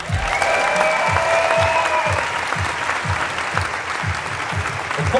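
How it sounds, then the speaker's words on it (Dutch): Loud, sustained audience applause at the Mister Gay Belgium 2018 gala as a jury member is introduced: dense, steady clapping from a large crowd filling the room, with a rhythmic thump of music beneath and a faint voice early on. "Een zeer luid applaus voor Jamie de Bliek!"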